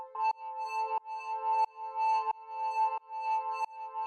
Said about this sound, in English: The next thing we have here is this little pad drone thing